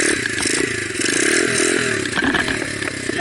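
A motorcycle revs and lurches as the clutch is popped for a wheelie, a close, loud engine growl with rising pitch and mechanical clatter and scraping, no talking.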